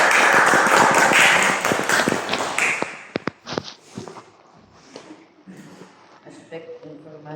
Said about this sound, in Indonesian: Tepuk tangan untuk Fendi.